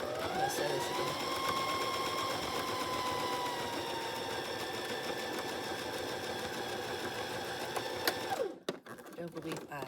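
A sewing machine stitches fabric squares together, running in a steady, close mechanical whir for about eight seconds before stopping abruptly, followed by brief handling noise.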